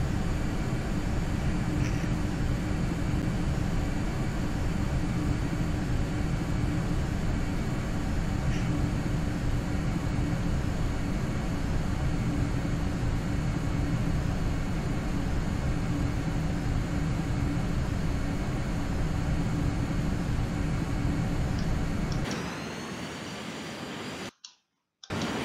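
A steady, dense airplane engine roar fills the cabin in flight for over twenty seconds, then drops away abruptly near the end, with faint clicks scattered through.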